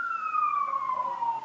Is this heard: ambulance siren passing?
yes